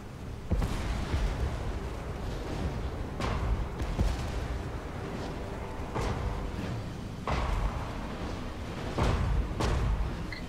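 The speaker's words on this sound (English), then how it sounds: "The dwarves are advancing with their cannons." Dwarf cannons fire in a Total War: Warhammer battle, a series of heavy booming blasts spaced irregularly over a constant rumble of battlefield noise, some shots loud and close, others more distant.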